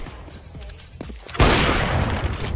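A grenade detonates with a sudden loud boom partway through in a tactical shooter game, its wide blast and rumble lingering after quieter game noise and faint movement.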